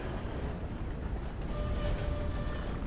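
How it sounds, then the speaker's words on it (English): A long train rolls along the tracks in a video game, a continuous heavy rumble with rhythmic wheel clatter and faint metallic squeal, loud and close throughout. "That's a long ass train and I'm standing here on the tracks."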